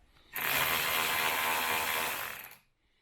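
A ratchet tool spins threaded T30 screws on a Land Rover Discovery 3 front door, giving one loud, steady burst of rapid clicking that lasts about two seconds before cutting off.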